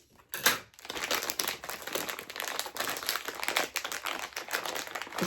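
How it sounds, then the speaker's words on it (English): Scissors snip open a resealable plastic bag, giving a sharp cut followed by steady close crinkling and rustling of the plastic, with no voice over it. "this is definitely a resealable bag. We're just going to snip it open."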